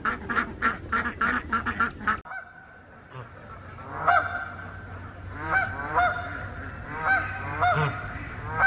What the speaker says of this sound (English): There are 2 Canadian geese that come each year to the pond